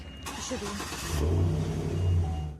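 An old pickup truck's engine turns over and starts, then revs up in two rising surges of mid-pitched rumble, heard at moderate distance outdoors.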